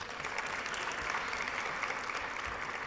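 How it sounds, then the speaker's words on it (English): Sustained applause from a large audience at the closing ceremony of the US-Africa Summit in Marrakech, a dense even wash of clapping held for the whole stretch, fairly distant and steady. "I need an applause for that."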